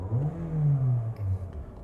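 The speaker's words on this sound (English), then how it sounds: "Now if I get into the throttle a little bit," Car engine revs up as the throttle is pressed during a scan-tool RPM check, a loud mid-low drone rising and holding, then dipping and surging briefly again, with no talk.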